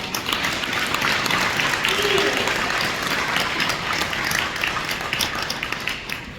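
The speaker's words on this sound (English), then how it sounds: "Let's give all of them a big round of applause." Audience applause at a high school awards and scholarships ceremony, honouring three seniors: a sustained, full patter of many hands with some crowd voices mixed in, steady throughout.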